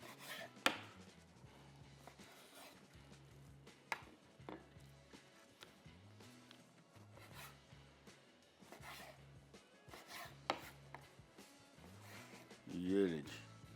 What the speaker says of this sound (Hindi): फिंगर फिश पहले काट लेते हैं।